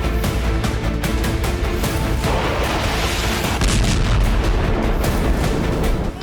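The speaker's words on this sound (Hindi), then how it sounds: "धमाके सीरिया के अलेप्पो में हुए" Explosions and heavy gunfire in the war-torn city of Aleppo, Syria, make a dense, continuous barrage of booms and sharp cracks with no pause.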